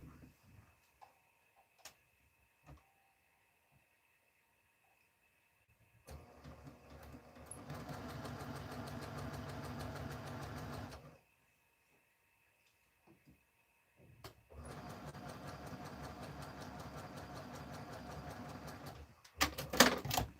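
A sewing machine stitching a quilt block runs in two steady bursts of rapid mechanical whirring, each a few seconds long, separated by quiet with occasional small clicks and ticks.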